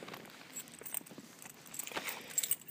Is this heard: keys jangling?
yes